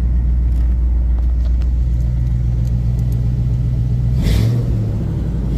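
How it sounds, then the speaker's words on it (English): A vehicle exhaust rumbles steadily at idle, deep and loud up close, with a brief shift in tone near the end. "Maybe you guys can hear the exhaust a little bit better."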